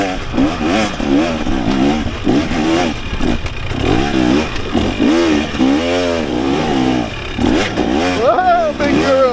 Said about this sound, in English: First little hill climb on the new bike.